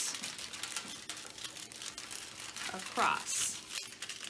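Aluminum foil pressed and crinkled by hand over a glued design, crisp rustling bursts near and close-up, with a sharper crunch near the end as a voice briefly speaks.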